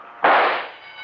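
A sudden loud explosion effect in a radio drama bursts in sharply after a brief quiet, then its rumbling roar decays over about a second.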